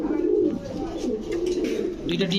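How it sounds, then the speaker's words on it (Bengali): Low, soft coos of black pigeons murmur through the clip, close by, with faint background chatter. "এক জোড়া শোকিং কবুতর তাও ব্ল্যাক"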